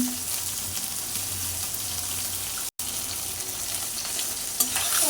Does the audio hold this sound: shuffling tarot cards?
no